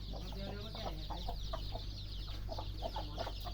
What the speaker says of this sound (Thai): ไก่แม่พันธุ์เพิ่นเพาะไว้แล้วนะครับ